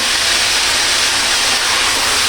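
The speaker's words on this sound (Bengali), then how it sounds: "আমি পেঁয়াজ একসাথে ব্লেন্ড করে ডিপে রেখে দিই এটা ভাজার কিন্তু অনেক শব্দ" Blended onion paste fries in oil over a lowered flame, giving a loud, steady broadband hiss that holds unbroken throughout, with no voices.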